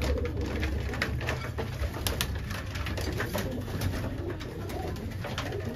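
A red Cheena pigeon coos in a loft among other pigeons, soft repeated throaty calls over a steady background hiss and rustle, with no talking.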